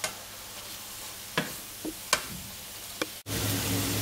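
Chicken and leeks fry in a pan with a steady soft sizzle, while a utensil scrapes and knocks against the pan in a few sharp, irregular stirring clicks; near and clear, with no talking.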